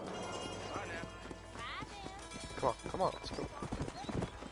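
Hooves clip-clop at a gallop in Red Dead Redemption, a quick continuous beat under the game's music and spoken dialogue, with a brief horse whinny.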